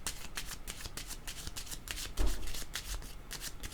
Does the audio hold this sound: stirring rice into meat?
no